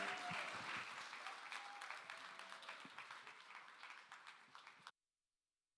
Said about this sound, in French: Main d'applaudissement.